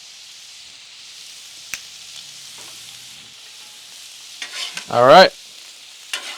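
Vegetables and pork fry on a Blackstone griddle with a faint steady sizzle, then a burst of scraping, clattering stirring near the end; a voice speaks briefly.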